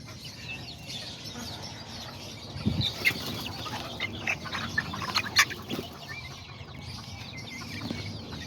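Miniature Azteca and Serama chickens cluck softly while eating, with a few short, scattered clucks and chirps over a low, steady background hum, fairly close but quiet.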